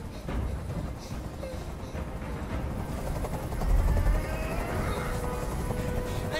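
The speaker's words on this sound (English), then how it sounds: "I can't stand that noise anymore! Tell that helicopter to get out of here!" Steady low rotor drone of a helicopter hovering overhead in the video game Detroit, swelling louder midway, mixed with tense background game sounds and talking voices.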